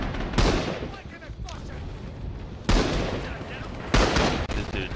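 Heavy gunfire in the shooter game Rising Storm, with sharp loud reports near the start and two more bursts later over a dense battle din, and a voice talking across it.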